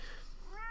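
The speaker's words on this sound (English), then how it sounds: "Sorry for the cat sounds." A domestic cat lets out a short, quiet meow that rises in pitch toward the end, heard alone and close against a faint background hum.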